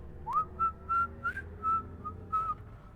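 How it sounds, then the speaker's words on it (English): A character in the Marvel's Guardians of the Galaxy video game whistles a wandering tune in short, thin notes with pauses between, fairly quiet over a low game ambience. "What is he trying to whistle?"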